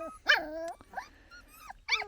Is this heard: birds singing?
no